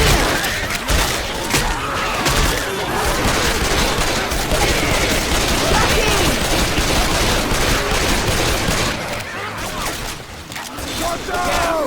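Gunfire rattles through a Left 4 Dead 2 zombie shooter match in loud, dense bursts of rapid automatic shots and heavy thumps. The volley runs almost nonstop and eases off briefly near the end.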